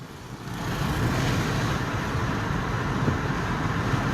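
Road traffic passes in an area recovering from a Category 5 hurricane, a steady broadband rumble of cars and heavier vehicles that swells after the first half second and holds, fairly close, with no talking.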